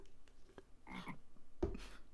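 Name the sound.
frog croaking in video game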